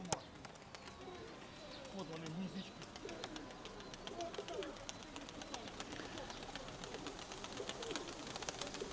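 Pigeons coo softly from nesting boxes in a loft, the low murmuring calls sitting quietly under scattered chirps, rustling and background noise.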